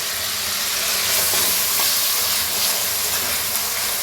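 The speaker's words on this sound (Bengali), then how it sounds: "রসুন, ধনেপাতা, কাঁচা লঙ্কা একসাথে পেস্ট করে এবার এই তেলের মধ্যেই দিয়ে দেওয়া হলো।" A paste of garlic, coriander leaves and green chilli sizzles steadily in hot oil in a pan, a loud continuous hissing crackle with no voices.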